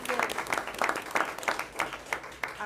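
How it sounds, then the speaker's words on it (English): A school board meeting crowd applauds teachers, administration and staff, with steady clapping from a moderately distant audience throughout and small bursts of louder claps. "give our administration and teachers and staff a round of applause"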